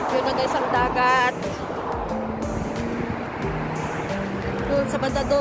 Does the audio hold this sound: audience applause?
no